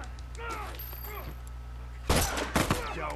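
Gunfire from a semi-automatic weapon in The Last of Us Remastered, two or three sharp, loud shots in quick succession over a low game hum, following quieter ambient game sounds.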